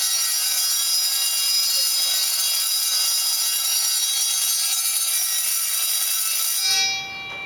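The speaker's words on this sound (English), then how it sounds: "sufficient enough to run this bigger 1 feet diameter of bell to run continuously 4 hours" An electric college bell, about one foot across, powered by a battery and solar panel and set on a timer, rings loudly and continuously with a harsh metallic clangour, then stops abruptly near the end.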